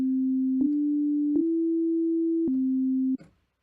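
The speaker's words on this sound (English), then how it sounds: "if I just play a note, that's just a basic sine wave" A synthesizer plays plain sine-wave notes in a sustained pure tone that steps slightly in pitch a few times, each change marked by a faint click, then stops abruptly.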